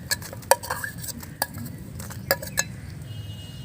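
A spoon stirs chopped ghotala masala around a pan in short bursts, with sharp metallic clinks and knocks against the pan over a low background hum.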